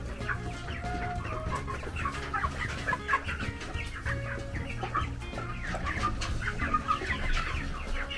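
Chickens on a home farm cluck steadily and close by, with overlapping calls from several birds over a low rumble and no talk.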